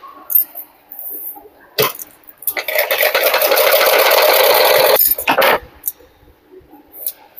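Sewing machine stitching blouse fabric, running in a short burst and then a longer steady whirring run of a few seconds, close and fairly loud, with handling clicks and rustles of cloth between runs.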